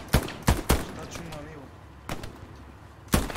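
Scattered gunshots in the Hell Let Loose video game, a few sharp cracks near and far with a quieter gap between them, over a faint background of birdsong.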